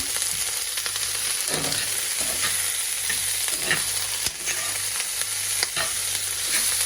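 Young potatoes with green onion stirred in a hot frying pan, a constant close sizzle broken by occasional scrapes and knocks of the spoon, no speech.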